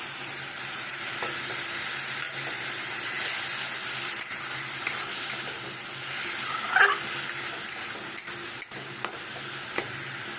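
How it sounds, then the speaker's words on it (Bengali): Spice water being poured into a hot pan while making a cauliflower and potato yogurt curry, a continuous close hiss and sizzle with occasional faint clicks of utensils, no voices. "যে মশলাটা করে রেখেছিলাম ওই মশলার জলটাই দিচ্ছি আমি"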